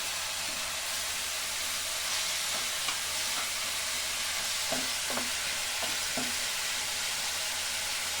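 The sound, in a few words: fish frying in a pan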